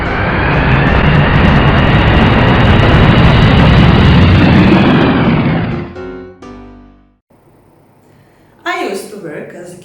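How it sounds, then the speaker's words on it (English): An airliner's engines roar loud and steady during the takeoff run, a broad sustained rumble with a rising whine sweeping across it, then cutting away abruptly, followed by a short burst of speech. "Cabin crew, take your seats for takeoff."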